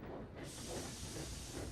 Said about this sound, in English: Later, Percy puffed off to check on his engines.